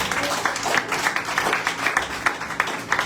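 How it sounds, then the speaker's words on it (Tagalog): A church congregation at a Sunday service claps together for the Lord, a dense, lively patter of many hands filling the room at steady loudness with a few louder bursts. "Malakas na palakpak sa ating Panginoon."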